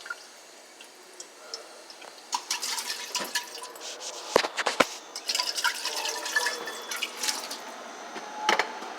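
Water is poured and trickles into a container with irregular splashes and drips, fairly faint against quiet room ambience at a police department, with no speech.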